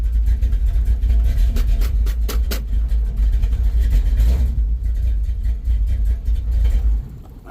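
A flathead car engine fitted with a newly installed Edelbrock AVS2 carburetor idles with a loud, rough, uneven rumble and brief surges, close by, before cutting off near the end; no talking.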